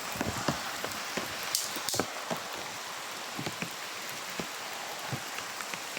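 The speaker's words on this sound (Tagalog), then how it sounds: "Malakas yung ulan." Heavy rain falls steadily in a dense, even hiss, with close drops tapping and splatting on a nearby surface throughout, no voices heard.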